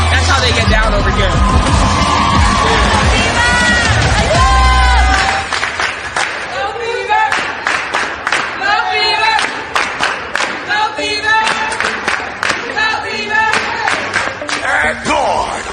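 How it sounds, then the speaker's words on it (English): Fans in an arena at a WNBA basketball game roar and cheer loudly at first, then the crowd noise becomes choppier with bursts of cheering and clapping as people talk over it. "The fans have all of a sudden you come in and you hear them cheering your name, but you can hear them now."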